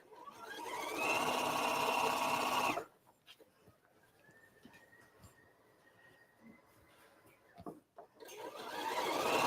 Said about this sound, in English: I'm now sewing top speed, full speed